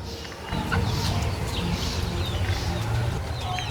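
A large 4 kg Patnai breed rooster calls with clucking and crowing, close and fairly loud over steady outdoor background noise.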